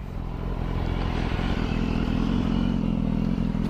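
A 2015 BMW S1000RR sport motorcycle's exhaust rumbles loud and steady nearby, with a deep, throaty drone and light mechanical clatter throughout.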